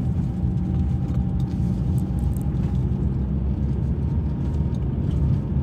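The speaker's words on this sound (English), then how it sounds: "so I'm actually in my dad's car today" Car driving along a road, heard from inside as a steady low rumble of engine and tyre noise throughout, with no talk.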